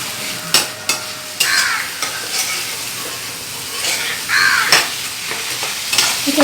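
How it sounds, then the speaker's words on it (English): Prawn-stuffed paneer pakoras in egg, corn flour and rice flour batter sizzle and crackle in hot oil, a steady fizzing bed punctuated by sharp spattering bursts and a few clinks. "নিয়ে তেলের মধ্যে এটা ছেড়ে দিলাম।"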